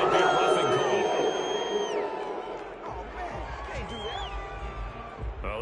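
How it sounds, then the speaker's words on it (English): A stadium crowd in the Madden 22 football video game, Lions vs Rams, boos and roars loudly in reaction to a roughing penalty call, a sustained swell that fades gradually. "this crowd does not like that call"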